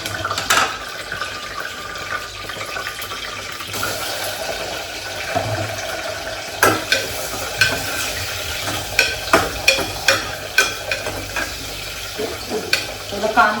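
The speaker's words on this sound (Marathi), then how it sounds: "कांदा व्यवस्थित परतवून घेते" Onion frying in hot oil with a bay leaf gives a steady crackling sizzle, with stirring scrapes and a run of sharper pops and spatters building toward the end.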